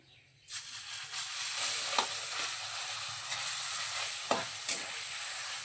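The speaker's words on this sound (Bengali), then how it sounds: "এবারে আগে থেকে যে বেটে রাখা ছিল মটর ডালটা, সেই ডালটা তেলের মধ্যে দিয়ে দিচ্ছি" Ground matar dal paste drops into hot oil already seasoned with black cumin (kalo jeere): a sudden loud sizzle bursts in and holds steady, with a few sharp spoon clinks against the pan. No one speaks.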